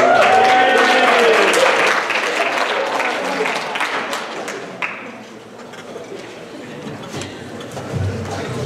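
School assembly audience applauding a speaker coming up, clapping loud at first with a voice over the start, then thinning and fading into murmur and scattered claps.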